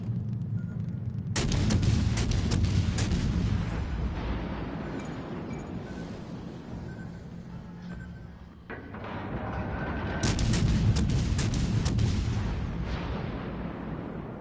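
Anti-aircraft guns pound away in a PS4 video game, a dense, continuous barrage of booming bursts that swells loud, eases off midway, then surges again, with no talk over it.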